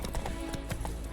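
A horse in The Witcher 3 moves at a quick pace, sharp hoof clip-clops landing in an uneven rhythm, fairly faint and close.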